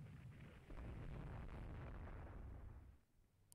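Heavy naval shells striking a warship in the naval strategy game Rule the Waves 3, a deep, sustained booming roar that holds for a couple of seconds before fading, with a faint pop at the end.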